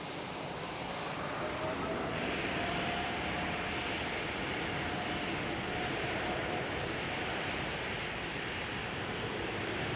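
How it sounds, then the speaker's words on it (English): A KLM Boeing 787 jet at Schiphol roars as a steady, broad rush of engine noise that stays fairly faint and distant throughout, with no talk. "There goes the KLM 787."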